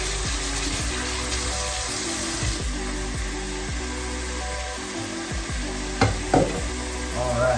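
A pot on a stovetop coming up to a boil while cooking traditional South African food gives a steady bubbling hiss, broken by repeated scraping and knocking from a spoon working around the pot. It stays close and moderately loud throughout.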